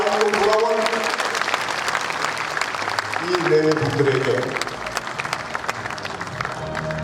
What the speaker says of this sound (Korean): 여러분 뜨거운 격려의 박수로